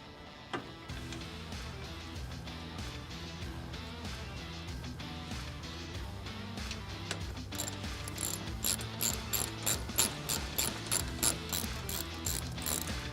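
A ratchet snugs bolts through the bracket of a Bestop Trektop Pro on a Jeep Wrangler JK, its pawl clicking in a fast, even run that gets louder and more distinct toward the end, no talking.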